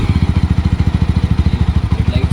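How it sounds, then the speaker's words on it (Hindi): A Mahindra Mojo 300 motorcycle engine chugs close by just after starting, a rapid, even thumping idle with regular pulses throughout. "तो अभी बाइक स्टार्ट करता हूँ।"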